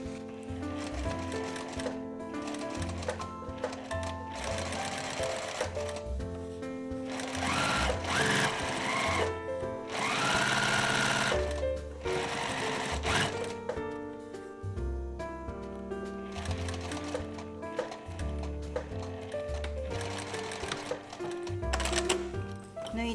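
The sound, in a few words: sewing machine stitching a back center seam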